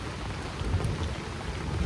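Heavy rain pounds steadily at a campsite with a deep low rumble of thunder rolling underneath, dense and continuous with no voices.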